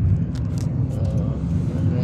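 Road traffic hums steadily nearby as cars pass, a low continuous rumble with no clear individual pass-bys and faint sounds layered on top.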